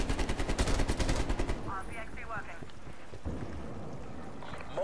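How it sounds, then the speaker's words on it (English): Automatic machine gun fire from sentry turrets in a shooter game, a loud, fast, continuous stream of shots that cuts off after about a second and a half, leaving quieter game ambience and faint chirps. "Yeah, they got machine guns everywhere"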